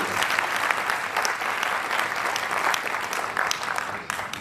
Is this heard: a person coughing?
no